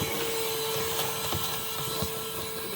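A small handheld vacuum cleaner runs inside a car interior, giving a constant whining motor drone with scattered knocks and scraping as the nozzle moves around.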